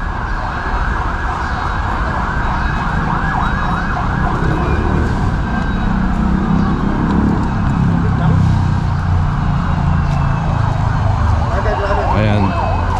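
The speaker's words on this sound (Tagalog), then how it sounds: "ambulansya at bombero." Ambulance and fire truck sirens wail continuously during a fire prevention month parade in traffic, loud and steady over vehicle rumble and crowd noise for the whole stretch.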